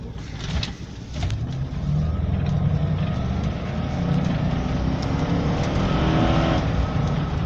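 A 2002 Range Rover 4.6 HSE (P38) drives over rough, partly unmade road, its engine a continuous low rumble with tyre and road noise building slightly, heard from inside the cabin with no talk.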